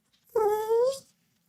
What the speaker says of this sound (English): Run along, little doggy.